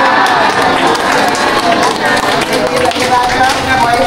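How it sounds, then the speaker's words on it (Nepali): Crowd at a Buddhist vihara procession carrying a statue of Mahaprajapati Gautami, clapping and cheering in a dense, continuous wash of sound, loud and steady throughout with mixed voices blended in. "सबैले अलिक ठुलो स्वरमा साधुकार र ताली बजाएर"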